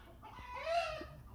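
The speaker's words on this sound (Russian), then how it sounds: "петухи заорали опять. То ли радостно, то ли возмущенно." Roosters crowing somewhere outside of town during a snowy winter, one faint drawn-out crow rising and falling over steady background noise, with no talking.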